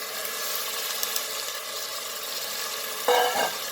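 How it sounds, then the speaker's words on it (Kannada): Field beans (avarekalu) frying in a pan, a continuous even hiss and sizzle with faint crackles, briefly louder near the end as the beans are stirred. "ಫಸ್ಟು ಅವರೆಕಾಳು ಹಾಕಿದ್ದೀನಿ. ಸ್ವಲ್ಪ ಫ್ರೈ ಮಾಡ್ಕೊಳ್ಳೋಣ."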